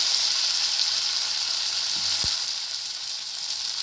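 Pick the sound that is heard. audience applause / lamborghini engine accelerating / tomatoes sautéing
tomatoes sautéing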